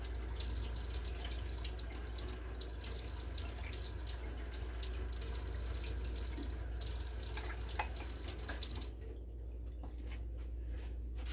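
Warm water, about 110 degrees, runs steadily from a kitchen tap into a measuring cup, a continuous close gushing that eases slightly near the end.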